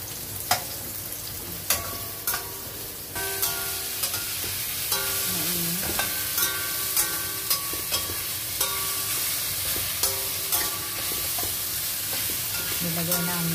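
Garlic and onion frying and sizzling in a pan, with steady loud sizzle and repeated clinks and scrapes of a spatula stirring throughout, no talking.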